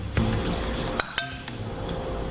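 A food can being tested gives several sharp metallic clinks and taps over a steady background hiss, with distinct hits near the start and middle of the short stretch.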